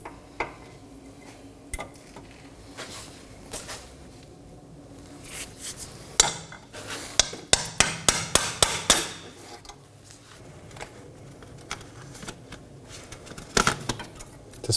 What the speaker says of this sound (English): So I'm going to take a pry bar and hammer to disengage it.